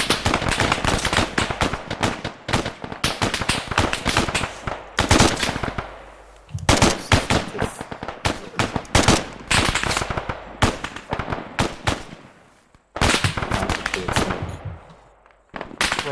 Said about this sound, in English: you're taking a bit more fire from the left as well